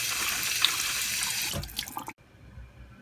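Tap water rushes into a sink as apples are rinsed clean, a loud steady hiss for about two seconds that cuts off abruptly, leaving faint handling sounds.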